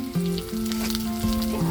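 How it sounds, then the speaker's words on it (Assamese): Pork with bamboo shoot, ginger and garlic frying in a pan by a riverside, giving a steady, close sizzle throughout with faint stirring clatter over a low background hum. "অলপ সময় ভাজি লৈছোঁ।"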